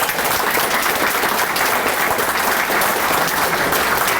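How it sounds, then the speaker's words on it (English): A hall of fame induction banquet audience gives a sustained round of applause for the 2023 inductee class, with dense, loud, continuous clapping filling the room throughout. "just one more round of applause for the class of 2023"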